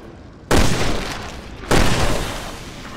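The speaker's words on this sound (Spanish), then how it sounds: "Tendremos que abrirnos paso a tiros." Gunfire in a Resident Evil video game: two loud, sharp blasts about a second apart, each fading into a rumbling tail.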